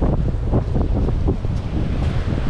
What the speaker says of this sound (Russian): ветер такой, конечно, сильный достаточно